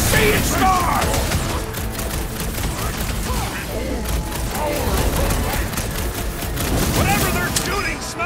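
Enemy gunfire rattles in nonstop bursts with booms in Marvel's Guardians of the Galaxy, loud and dense throughout, while characters shout over the fighting.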